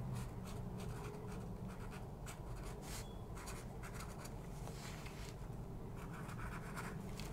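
A black marker writing on a dry bay leaf, giving a faint, close, steady scratching with short rhythmic strokes over a low background hum, no talking.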